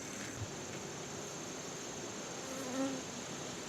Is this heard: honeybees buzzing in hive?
yes